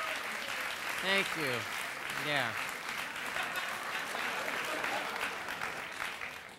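A late-night talk show studio audience applauds in a broad, even wash while someone speaks briefly over it and another voice answers.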